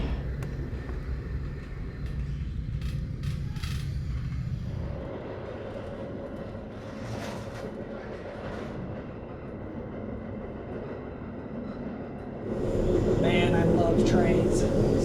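Steady low rumble of a passenger train rolling along its tracks, heard from inside, with rattling carriage noise and occasional louder surges, people talking faintly underneath.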